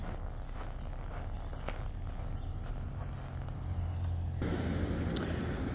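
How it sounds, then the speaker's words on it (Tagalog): A car passes on a snowy residential street, a soft engine and tyre hum swelling to a nearer, louder rush near the end, with faint footsteps and no talk. "Palagpasin lang natin tong sasakyan."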